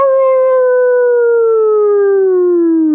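A person imitates a coyote howl with one loud, sustained voice that glides slowly downward for about three seconds, alone and close.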